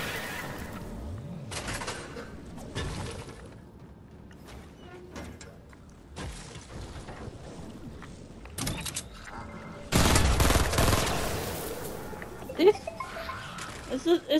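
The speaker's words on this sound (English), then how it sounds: "It's like a burst assault rifle." Burst assault rifle in Fortnite firing in short clustered volleys, with a longer loud burst of shots toward the end, heard amid game sounds while a person talks.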